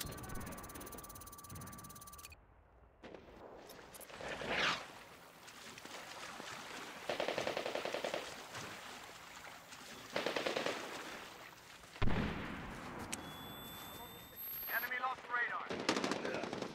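Machine gun fire in the shooter Medal of Honor: Warfighter with a G36 rifle, sustained bursts mixed with hissing effects and game ambience, loud and continuous, with voices shouting over the combat.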